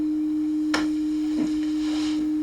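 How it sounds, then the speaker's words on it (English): A steady electronic sine tone from a brainwave monitor signalling alpha waves holds one unbroken pitch throughout, with a few faint chirps and rustles passing underneath. "it reaches a state of deep relaxation and begins to generate alpha waves, and it sounds like this."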